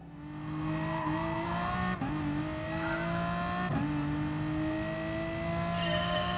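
An Aston Martin Vulcan races around the Nürburgring GP circuit in Gran Turismo Sport, its loud engine holding a steady high whine with brief dips and rises as it shifts gears, close and continuous.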